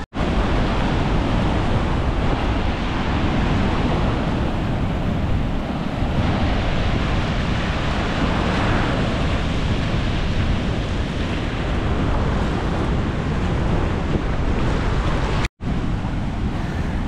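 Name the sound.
Ban Gioc waterfall rushing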